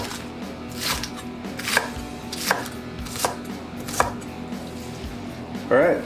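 A knife chops green onion on a cutting board in a handful of crisp, evenly spaced strikes, close and fairly quiet.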